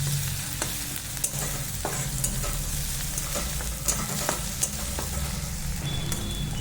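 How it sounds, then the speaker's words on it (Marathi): Ginger-garlic paste frying in oil with sprouted moth beans for a dry matki bhaji: a steady close sizzle under scattered light clicks and scrapes of a spoon stirring the pan, no voices. "त्याच्यामध्ये आपण अद्रक आणि लसणाची पेस्ट टाकून घेऊ"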